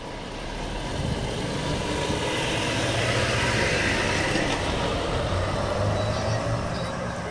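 A truck engine rumbles steadily and fairly loud throughout, a continuous low drone of a passing or idling vehicle on a road near a bus, with a voice talking faintly underneath.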